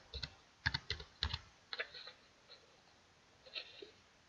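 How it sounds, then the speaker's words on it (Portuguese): Keystrokes on a computer keyboard while entering text into AutoCAD 2018 table cells: quiet, close clusters of quick taps with short pauses between the bursts. "Quando eu vou digitar alguma coisa, simplesmente eu clico na célula e vou digitar."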